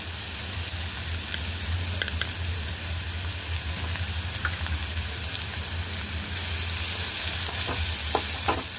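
Onion chili paste, pounded onion with chili powder, frying in a tempering pan, a steady broadband sizzle with low rumble, near and continuous, with a few sharp crackles and pops.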